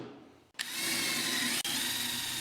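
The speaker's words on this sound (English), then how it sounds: "I used my palm sander just to clean it up," A palm sander smoothing and rounding over the edges of a small wooden piece gives a steady, loud whirring buzz that starts abruptly after a brief quiet moment, with one short break near the end.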